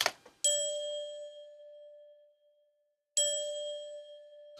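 Two synthesized bell strikes ring out in a beat being built in Cubase, each a bright metallic ding with a long sustained tone that decays slowly, the second arriving after a near-silent gap.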